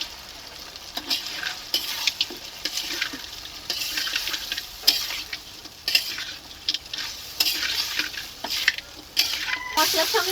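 Crab pieces fry in a pan with tomato and onion spice masala, giving a steady close sizzle broken by frequent scraping stirs and light clinks of the spoon against the pot.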